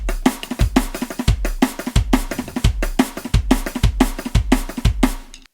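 Close drum kit plays a linear drum and bass groove, single kick, snare and cymbal hits never overlapping, in a steady fast repeating pattern with punchy low kicks and bright hi-hat ticks.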